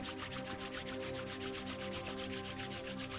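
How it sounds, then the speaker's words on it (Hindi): Two hands rub briskly together close by, a dry, even swishing in quick regular strokes, with no talking. "दोनों हाथों को आपस में रब कीजिए।"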